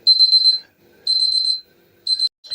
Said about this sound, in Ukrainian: Ось і таймер спрацював.